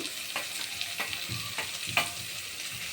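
A spoon stirs chapati noodles with paneer and coriander in a hot pan, with rhythmic scraping strokes about every half second over a steady close sizzle.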